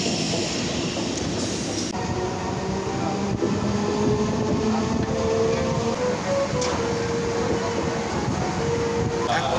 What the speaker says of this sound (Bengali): ফাইনালি ট্রেন চলে এসছে বন্ধুরা, এই দেখো হাওড়া কাটোয়া লোকাল,